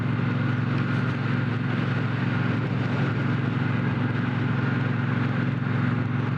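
A Triumph Bonneville Bobber motorcycle burbles along while being ridden, its engine a steady, even low drone with a constant rumble and no pauses or talk.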